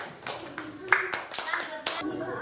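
A few scattered hand claps over lively voices, uneven and brief rather than sustained applause.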